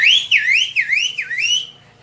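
Someone whistles close and loud, a series of rising and falling swooping notes in quick succession that trail off after about a second and a half.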